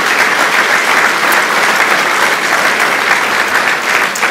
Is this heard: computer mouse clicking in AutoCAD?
no